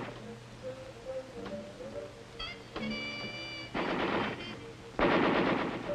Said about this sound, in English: We spent a lot of time on the machine gun range with the M60.